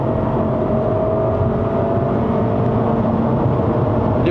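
Cabin of a Lexus IS 300 F-Sport under acceleration: a continuous engine drone and road roar with faint tonal whine, steady and moderately loud, with no talking and no distinct shift break evident.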